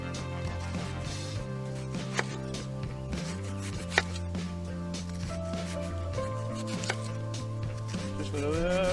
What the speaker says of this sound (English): We're just going to cut some off of it.